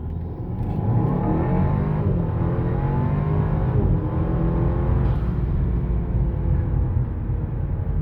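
A 2017 Audi A4 B9 running a stage 1 tune accelerates hard, its engine note rising steadily and droning loudly throughout without any talk.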